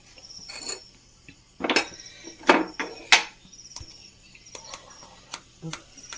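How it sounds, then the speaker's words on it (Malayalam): A lid being set on a pot of prawn roast in a home kitchen, giving several sharp metallic clanks and knocks spread over a few seconds against a quiet background. "നമ്മുടെ മൂടി വെച്ച് കൊടുക്കാം"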